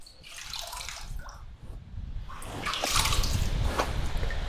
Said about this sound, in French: Je remue un peu l'eau pour mélanger un petit peu les fluides.